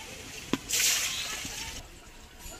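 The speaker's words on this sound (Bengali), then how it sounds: "কড়াইটা ধুয়ে নিয়েছি, এবার কড়াইতে দিয়ে দিচ্ছি সরিষার তেল" Mustard oil pours into a freshly washed wok, a soft thud followed by a brief liquid rush that tapers into quiet hiss; faint and close, with no talking.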